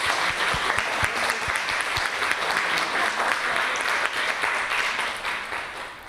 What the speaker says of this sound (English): May we please have a huge round of applause.